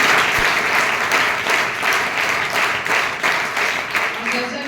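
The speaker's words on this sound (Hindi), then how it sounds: "तो एक बार जोरदार तालियां बनती हैं।" Applause at a workshop on breast cancer and the menstrual cycle held by a college NCC wing, a dense, steady wash of many hands clapping indoors, loud and sustained throughout.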